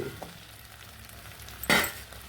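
Okra cut into small pieces frying in a pan with kutu podi, a soft steady sizzle with one sharp louder burst of stirring or clinking partway through, no voices.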